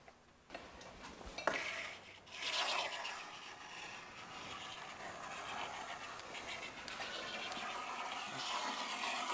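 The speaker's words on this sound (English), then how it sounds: "With my scribe set, I can scribe the hinge style and the lock style." A scribe scratches a line along the hinge stile of a new door fitted into an old jamb, giving a faint, steady scraping hiss with a few sharper strokes.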